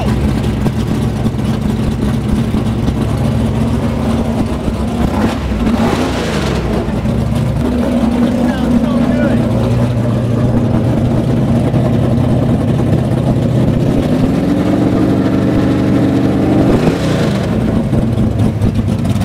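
Restored replica race car engine idling loud and close, with a deep steady rumble broken by several sharp revs that rise and fall, the last climbing to a high roar before dropping back.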